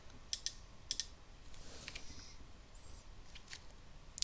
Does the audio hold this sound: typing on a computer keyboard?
yes